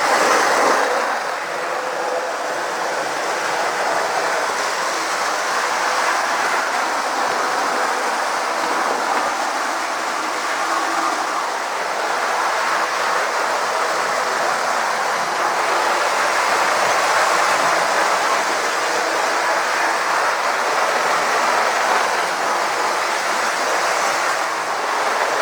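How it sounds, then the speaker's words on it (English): Dapol Red Revolution model train power car running on track without its traction tyres, a steady whirring motor hum with a continuous rolling rattle that stays even throughout. "The Dapol power car's wobbling a bit because it hasn't got its traction tyres on, but it works."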